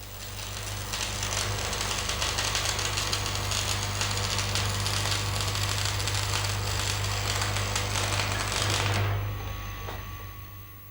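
Arc welding with an electrode held at an angle along a weld line, a steady crackling, buzzing hiss over a low hum, close and continuous, ending abruptly toward the finish.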